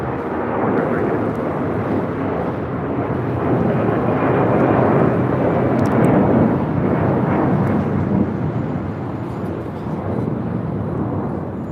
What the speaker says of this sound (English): Do have a Delta 757 taking off here on the south side.